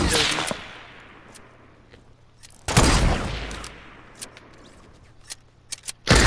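Sniper rifle shots from a Call of Duty Nuketown quick-scope match, with one loud sharp blast near the middle and a burst at the start and end, over a low game hum and faint background chatter.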